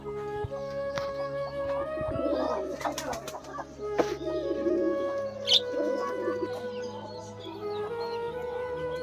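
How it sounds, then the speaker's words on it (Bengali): Pigeons coo at a rural home where ducks and chickens are kept near a river, giving repeated soft, low calls at close range with a few faint chirps from other birds and no talking. "খালি ডাকিচ্ছে কবিতর সব।"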